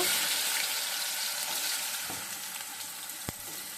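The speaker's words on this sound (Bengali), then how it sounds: "তেল বসিয়ে দিয়েছি কালো জিরে পুরনো দিয়ে দিয়েছি এখন আমি আলুটা কাঁচা কলা ভেজে নেব" Potato and raw banana fry in oil seasoned with black cumin, a steady close hiss of sizzling that fades slightly, broken by a single sharp clink near the end.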